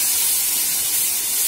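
Spiced puree for kadai paneer poured into hot oil with a teaspoon of Kashmiri red chilli, giving a steady, loud, close hissing sizzle that continues without a break.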